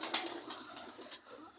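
A pet pigeon coos softly, a faint, short, low murmuring call heard close by in a quiet room.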